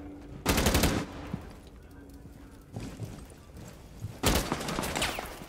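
Gunshots in Rainbow Six Siege, arriving as three separate loud bursts of rapid fire with quieter gaps of ambient game noise between them, while a player speaks faintly in the background.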